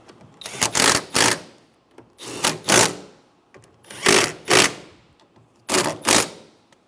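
Nuts snugged down on a 2013-2017 Honda Accord door mirror with a ratcheting tool, four separate bursts of rapid clicking, each with two quick pulses, loud and close with short pauses between.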